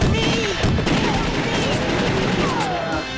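Rapid gunfire in The House of the Dead 2 arcade light-gun game, with dense continuous shots and loud bursts throughout, layered with game effects.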